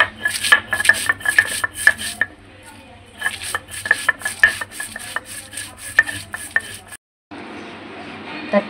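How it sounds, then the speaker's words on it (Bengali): Green chilies and garlic being ground by hand for a dried fish bhorta, a series of close, rhythmic scraping and pounding strokes that come in bursts, break off briefly, then resume before a short stretch of duller rubbing. "ওই যে মরিচ টরিচ বাড়তে আছে সুন্দর করে।"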